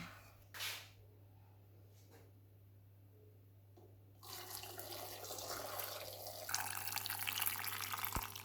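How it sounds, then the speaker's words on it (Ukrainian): Boiling marinade poured into a jar over mixed vegetables with grapes, a quiet start with a faint clink, then a steady liquid splash and gurgle that grows fuller and louder toward the end. "Наступний крок кип'ячим маринадом заливаємо овочі."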